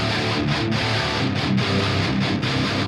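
Two distorted guitar tracks layered together, one through a Hesu 2x12 amp loaded with V30 speakers, playing a dense, sustained metal riff with brief dips and a clean stop at the end.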